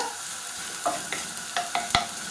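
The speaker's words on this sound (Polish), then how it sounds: "Z czosnkiem dosłownie chwileczkę i już dorzucam cebulkę. Będę podsmażała do momentu zeszklenia." Garlic and onion frying in a pan, a steady soft sizzle with a few light clinks and scrapes of stirring, close by and alone with no talk.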